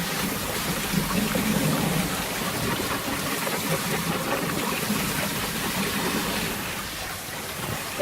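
A water jet blasts down an aquaponics sieve filter, a continuous loud hissing spray with splashing and gurgling water throughout, steady and close.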